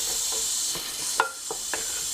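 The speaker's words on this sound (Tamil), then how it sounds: "இந்த வெங்காயம் தக்காளி இதெல்லாம் நல்லா வதங்கி அதோட பச்சை வாசனை போகிற வரைக்கும் இதை வதக்கிக்கணும்." Onions and tomatoes sautéing with salt in a pan, a soft steady sizzle broken by a few light stirring clicks and scrapes, close and fairly quiet.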